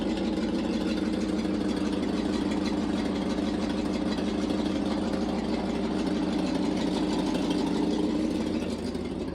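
A 1979 International ACCO 510A four-wheel-drive truck engine idling, a steady low rumbling drone at constant loudness throughout, close by with no talk.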